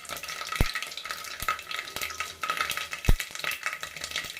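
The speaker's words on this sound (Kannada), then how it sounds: "ಎಣ್ಣೆ ಕಾಯ್ದೆ ಇದೆ, ಅದಕ್ಕೆ ಇವಾಗ ಸಾಸಿವೆ ಹಾಕೊಳ್ಳೋಣ" Mustard seeds and green chilies sizzle and crackle in hot oil inside a pressure cooker, with a steady frying hiss and several sharp pops and spoon scrapes scattered through.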